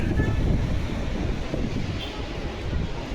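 Sea waves wash ashore at Kunkeshwar beach on the Konkan coast, a continuous loud rumbling surf mixed with gusty wind buffeting the microphone, with no breaks between swells.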